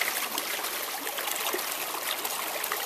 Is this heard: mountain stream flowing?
yes